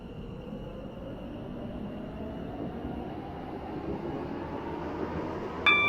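A train runs along the Waterline toward Greenslade in the Stepford County Railway game, a steady rumbling roll with a faint high whine that builds slightly louder before a brief metallic clatter at the end.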